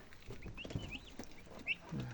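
Turkeys resting in a shed give soft clucks and a few higher squeaky calls, close by and fairly quiet, scattered irregularly.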